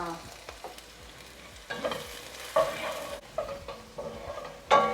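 Spring onions and garlic stirred in a frying pan as the base for Jamaican rice and peas, with soft sizzling under intermittent scraping strokes of a utensil, close and moderately loud.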